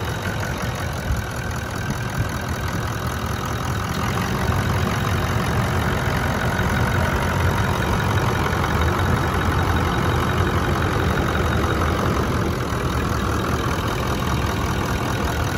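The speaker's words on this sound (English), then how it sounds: "as you can probably hear, I do have the car running" A Land Cruiser engine idles steadily and close by, a continuous low rumble with a faint ticking rhythm, no voices.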